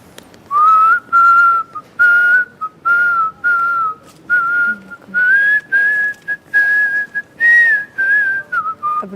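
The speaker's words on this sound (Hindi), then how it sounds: "अपनी सीटियाँ बंद करो, हम अपना वो करें।" Several people whistling a wavering tune together during a casual rehearsal, in repeated short phrases with brief gaps, loud and close.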